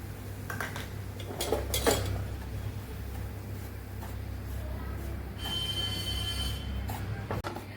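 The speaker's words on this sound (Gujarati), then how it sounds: "થોડું તેલ ઉમેરી અને આપણે ચણાના લોટને પણ શેકી લેશું" Gram flour roasting in oil in a pan for a Gujarati stuffed chilli recipe gives a soft, steady background with repeated metal scraping and clinks of a utensil against the pan, close by, with no talk.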